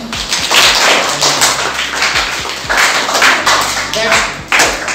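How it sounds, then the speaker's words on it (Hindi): Clapping in a school classroom for a student at Govt Boys High School, loud and close, with a dense burst of claps and thuds running throughout and a voice speaking over it. "आपके लिए भी तालियां।"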